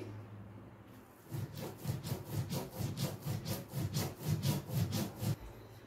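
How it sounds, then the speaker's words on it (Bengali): Mustard seed, coconut and chilli ground into a paste by hand on a grinding stone, a close run of about a dozen rhythmic scraping strokes at a steady back-and-forth pace, after a quiet start. "তো আমি হাতেই বেটে নিচ্ছি।"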